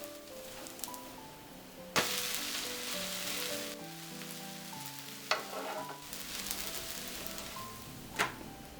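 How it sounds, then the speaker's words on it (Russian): Crepe batter hits an oiled pan with a sudden loud sizzle, then fries with a steady broadband hiss under faint background music, with a few sharp clicks from utensils. "И разливаем блинчик. И прокатываем до конца."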